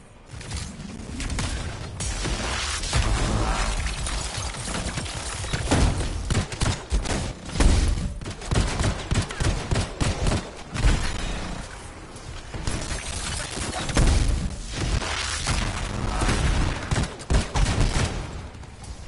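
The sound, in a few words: gunfire in a PS4 video game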